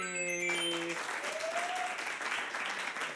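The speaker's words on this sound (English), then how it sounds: "give a big round of applause to Anthony" A crowd at an improv comedy show applauds the technician in the tech booth, steady close clapping that swells in right after a brief tonal sound and continues evenly to the end.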